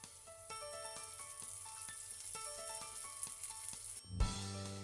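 Mustard seeds, cumin and curry leaves sizzle in hot oil, a continuous bright crackle with rhythmic spoon or pan taps, then a sudden louder hiss and thump as more ingredients hit the pan.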